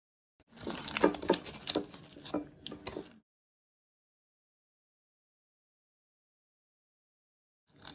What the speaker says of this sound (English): I'm just going to peel off the paper and cut it to show you what it looks like inside